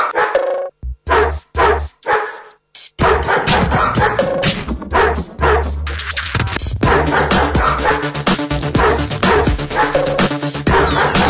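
Dogs at a pet homestay bark loudly and repeatedly up close, a few sharp isolated barks at first and then a dense, overlapping chorus of barking and yipping that carries on throughout.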